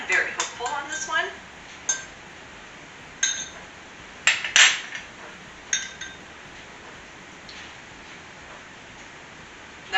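A spoon stirring reconstituted freeze-dried cranberry apple orange relish in a bowl, giving scattered light clinks and taps against the dish, a quick cluster at first and then sparse knocks with quiet gaps.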